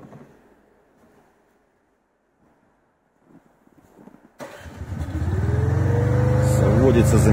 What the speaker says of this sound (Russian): средний оборот, на средних оборотах работаем.